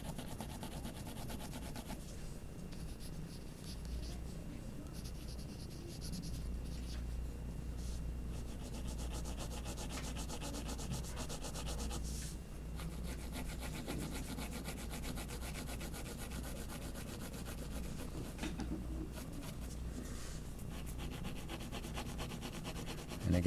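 A graphite pencil shades across paper in a soft continuous rubbing scratch, faint and close, steady for the whole stretch with small breaks in the strokes and no talking.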